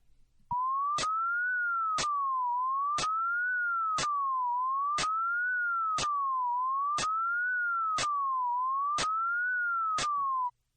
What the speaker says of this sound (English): the same slide whistle noise, but this time white noise, a bit of static, has been inserted into the gaps